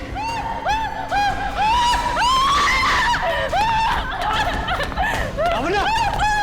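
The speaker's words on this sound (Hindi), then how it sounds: "ये कैसे चीख है?" A woman in a Hindi TV crime drama screams in repeated sharp, wavering bursts, loud and close, mixed with other frantic voices and snickering cries.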